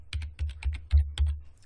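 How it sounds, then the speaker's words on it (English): A username is typed on a computer keyboard in a quick burst of about nine close, crisp key clicks with short irregular gaps, heard alone. "I'm going to go ahead and type in a username"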